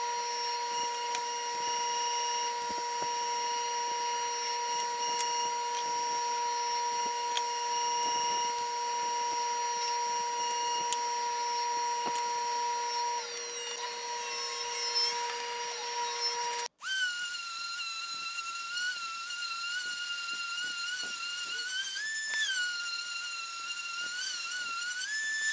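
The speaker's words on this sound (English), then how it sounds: "let's go to our saw and cut all of our boards to length" A power saw cutting wooden boards to length whines steadily, then cuts off with a sharp jolt and restarts at a different pitch, loud and continuous throughout.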